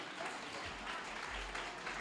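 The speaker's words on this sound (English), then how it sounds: "A round of applause to the teachers of" Faint, distant applause from an audience at a school performance, honoring the sixth grade teachers; a soft, continuous patter of clapping with low rumble beneath and no clear voices.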